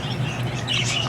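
Pet birds in an aviary chirping with soft, continuous twittering, close and steady throughout the short moment.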